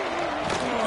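Stadium crowd roar from the CFB 26 college football video game, Miami versus Clemson, a steady dense wash of cheering held under play-by-play commentary through the short span.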